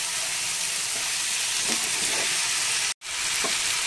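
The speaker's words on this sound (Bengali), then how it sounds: "ভালো করে মিশিয়ে নিচ্ছি ফুলকপিগুলোকে।" Fried cauliflower and potatoes are stirred with spices in a pan, giving a dense, even frying hiss with a few soft scrapes and a brief cut-out near the end, close and without voices.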